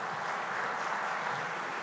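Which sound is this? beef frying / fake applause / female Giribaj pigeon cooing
fake applause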